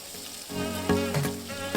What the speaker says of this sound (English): onions, white onions, and we're gonna fry this.